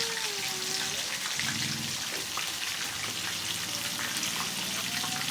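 Onions fry in a pan of oil for a Filipino chicken and tomato dish, giving a soft, steady crackle and hiss with faint background tones.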